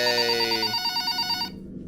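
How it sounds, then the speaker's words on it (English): A phone rings in the Five Nights at Powerpuff Girls video game with a loud, steady electronic tone that holds for over a second and then cuts off, leaving low background noise. "I'll let the phone call play"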